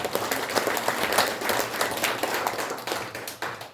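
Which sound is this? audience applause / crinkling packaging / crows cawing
audience applause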